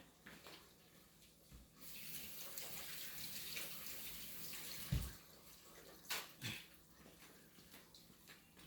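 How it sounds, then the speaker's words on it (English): Water from a kitchen tap runs steadily while hands are washed beneath it, quiet and fairly distant, with a few louder splashes and knocks near the end and no talking. "Let me wash my hand."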